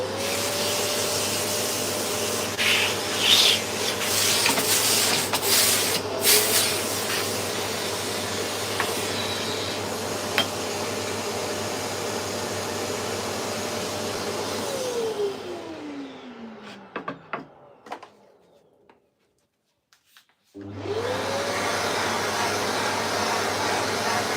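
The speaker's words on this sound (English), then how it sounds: "let me just hoover my workstation off, because we've got a bit of dust on ya" A vacuum cleaner hoovers dust off a woodworking workstation, a loud steady motor whine running near for about fifteen seconds, then dropping in pitch as it switches off, a brief silence, and the motor starting up again.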